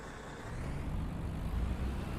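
A bus engine idles in the OMSI 2 bus simulator game, a quiet, steady low rumble with a faint hum and no talk over it.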